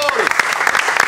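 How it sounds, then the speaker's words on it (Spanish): A crowd applauds loudly with dense, steady clapping, and a voice can be heard underneath. "Un aplauso para el equipo de Carlos Lobatón."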